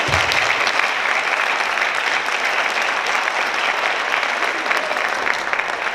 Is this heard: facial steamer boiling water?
no